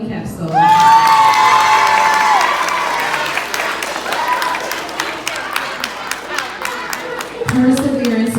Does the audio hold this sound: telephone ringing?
no